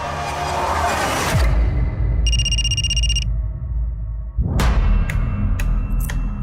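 A telephone rings in a Hindi crime drama scene: one short electronic ringing burst over a low, tense music bed, between sharp whooshing transitions.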